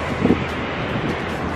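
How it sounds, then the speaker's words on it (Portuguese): Wind gusting outdoors near a garage, a steady broadband rush with a brief louder buffet early on, no talking. "Ui, que vento, Wandinha."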